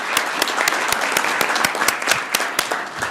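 Audience applause at a city council meeting in Columbus, Georgia: a steady round of hand clapping from a roomful of people, close and sustained throughout.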